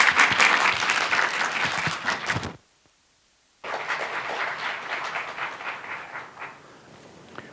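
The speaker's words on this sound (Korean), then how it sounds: "박수로 맞이해 주세요." An audience at a Myongji University art history department 20th-anniversary lecture applauds to welcome the university president, with a burst of dense clapping, a short silent break, then a second sustained round that gradually tapers.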